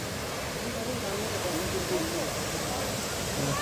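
Steady rushing water of the Chet Sao Noi waterfall in Muak Lek, Saraburi, a continuous broadband roar heard close by with people talking over it.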